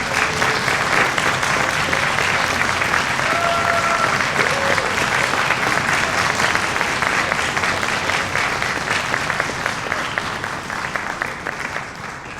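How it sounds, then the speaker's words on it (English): Loud, sustained applause from a concert audience honoring high school orchestra seniors, dense clapping that holds strong and eases slightly toward the end. "let's give them a big round of applause"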